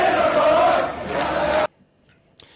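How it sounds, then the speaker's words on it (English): A large soccer crowd chants in a dense roar for over a second and a half before cutting off abruptly into near silence. "a chant going up from the crowd"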